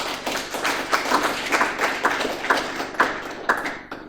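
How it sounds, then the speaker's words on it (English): Clapping from a small gathering at an Indigenous knowledge keepers event after a shared meal, sharp and fairly sparse hand claps coming in an uneven rhythm, close by, with no voices. "Let's give them a nice round of applause."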